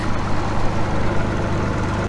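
A farm truck engine idles nearby, a steady low rumble holding evenly throughout with no voices over it.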